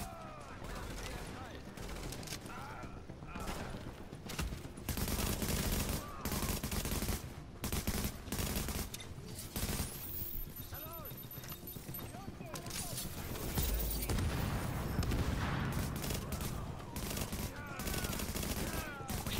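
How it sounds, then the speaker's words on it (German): Sniper and other gunfire rings out in The Division gameplay on PS4, with repeated sharp shots and bursts scattered across the stretch under steady game noise and someone talking over it. "Da hinten sehen wir dann auch schon wieder Sniper euch angreifen"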